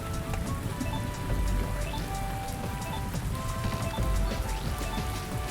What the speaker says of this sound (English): that's a lot of rain, dude